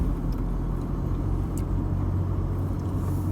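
4WD vehicle climbing a sand dune, a steady deep engine rumble and drone close up, continuous and even throughout.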